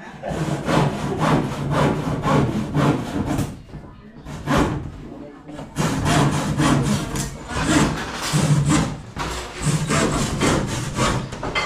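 Wood is cut with a hand saw in loud, rhythmic back-and-forth rasping strokes, grouped in bursts with short pauses between them.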